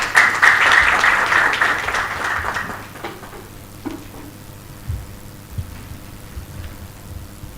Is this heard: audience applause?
yes